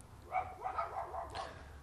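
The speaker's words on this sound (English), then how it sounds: "We got poodles after us. Yeah, the dogs." Poodles bark in a quick run of short yips, fairly faint and somewhat distant, against a low background hum.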